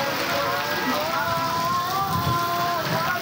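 Heavy storm rain pours down in a loud, dense, continuous hiss, with faint voices underneath.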